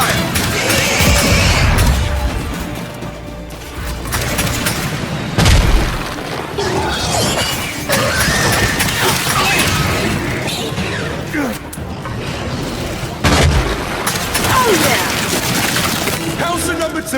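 Loud booming blasts from a grenade explosion in the shooter game Gears 5, dense with debris and battle noise, with sharp bursts near the middle and end over continuous combat clamor and voices.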